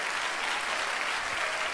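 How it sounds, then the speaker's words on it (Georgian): A studio audience applauds the finalists at the season 2 final of a Georgian TV talent show. The clapping is dense, even and sustained, and fills the short moment on its own. "კიდევ ერთხელ მინდა აპლოდისმენტები მათ ჩვენგან"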